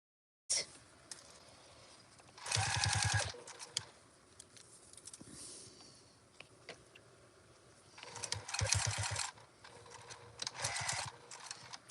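A sewing machine runs in two short bursts of rapid stitching while sewing a reverse stitch on a fabric bowl cozy, with quiet handling sounds of fabric and parts between the bursts.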